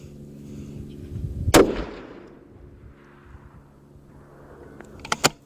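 Two rifle shots at an outdoor range, fired from a rifle in an MDT Oryx chassis: one loud, sharp report with a fading tail, then a quieter pair of cracks near the end.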